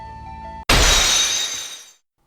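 A loud glass-like shatter from the Ace Attorney psyche lock breaking effect strikes after a steady tonal chime, then rings out and fades over about a second and a half.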